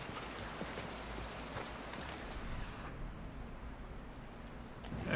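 Horse hooves clip-clopping in the Red Dead Redemption 2 video game, a faint, irregular series of soft thuds at moderate distance under low background ambience.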